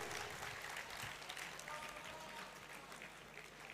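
Faint, distant applause from a crowd, a soft continuous patter of clapping throughout.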